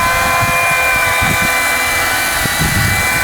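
A chainsaw makes the front cut on a tree being felled, a loud, steady engine drone that holds for the whole stretch with no talking.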